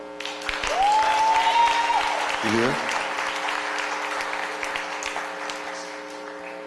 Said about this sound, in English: Applause, come on.